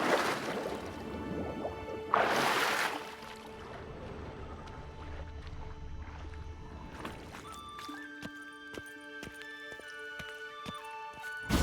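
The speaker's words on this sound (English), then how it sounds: "Perhaps I need to pump all the water out first." Water being pumped out in The Witcher 3, a gushing, sloshing rush of liquid that fades into dripping and squelching, followed by faint mechanical tones and soft clicks.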